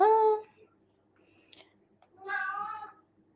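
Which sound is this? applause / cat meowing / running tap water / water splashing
cat meowing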